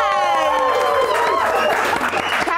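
Studio hosts on a live-stream talk show clap together, a dense patter of hand claps running steadily throughout, with voices mixed in.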